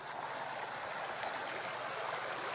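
Swollen river water rushing past in a steady, dense roar, close and unbroken throughout, with no voices.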